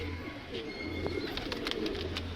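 A lilac-coloured pigeon coos softly close by, a brief, low murmur set against faint chirps and background noise.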